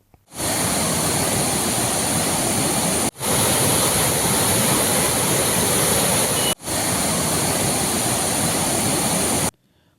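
Floodwater rushes from the overflowing Chaliyar river in Mavoor during heavy rain, a loud, dense, continuous roar with two brief cuts, close and without voices.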